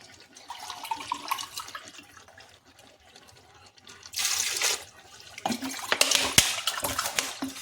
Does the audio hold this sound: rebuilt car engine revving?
no